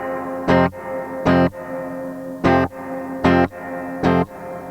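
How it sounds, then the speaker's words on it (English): Guitar notes through a Gamechanger Audio Light Pedal optical spring reverb, five chords struck at steady intervals, each attack ducked then the reverb swelling in and sustaining between strikes, no talk. "It ducks the reverb when you first strike a note or a chord,"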